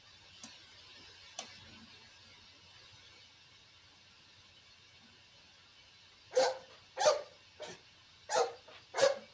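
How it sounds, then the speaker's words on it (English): A dog barking at a door, with a quick run of five or six sharp, fairly close barks near the end after a quiet stretch that holds only faint ticks. "barking at the door"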